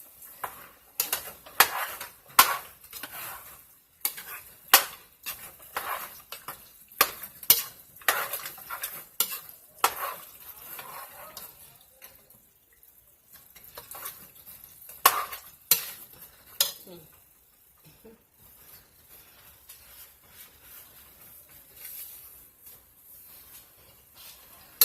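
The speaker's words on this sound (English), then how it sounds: "now I'm going to stir this up real good." A spoon stirs chili in a pot, with a run of sharp scraping clacks against the metal and a soft sizzle underneath, the strokes thinning out and going quiet in the second half.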